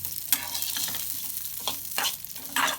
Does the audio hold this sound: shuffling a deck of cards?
no